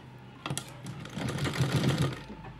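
Sewing machine stitching lace onto blouse fabric, a close, steady mechanical whir that starts after a brief pause and runs continuously to the end.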